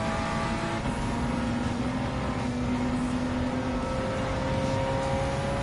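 Engines of a JDM tuner car and an all-wheel-drive Ford road-going rally car racing on the Grand Valley highway circuit in Gran Turismo 7, producing a continuous, steady engine drone with whining tones and no talk.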